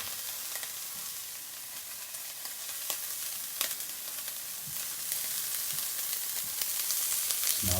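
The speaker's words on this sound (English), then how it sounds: "I just put some olive oil in here first with some onions. Right, just get that little saute action going." Onions sauté in olive oil in a pot with a steady, moderate sizzle and crackle throughout, punctuated by occasional stirring clicks and scrapes.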